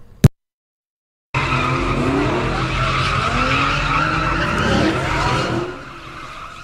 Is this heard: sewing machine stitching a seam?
no